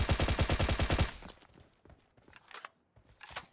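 Rapid automatic gunfire from a PUBG Mobile match, a fast loud burst of about a dozen shots that breaks off into scattered fainter shots and game noise.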